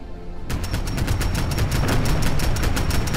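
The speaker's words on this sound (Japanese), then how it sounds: "爆発ピストルだ。" Rapid explosive pistol gunfire in Fallout 4 (Far Harbor DLC) bursts out in a dense, loud stream of shots and blasts that starts abruptly and runs continuously, with no talking.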